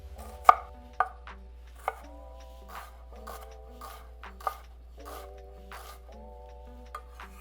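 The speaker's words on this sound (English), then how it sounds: "Chop that up." Knife chopping red onion on a board for pineapple salsa, a few sharp irregular taps spread out over several seconds, close and fairly quiet, with a soft tonal hum in the background.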